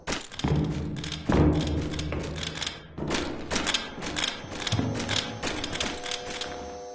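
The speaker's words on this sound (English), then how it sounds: "It sounds like there's a new sound for the hook shot." Repeated mechanical thunks and clattering clicks from the hook shot in the video game Animal Company, several distinct bursts spaced irregularly over a quiet background.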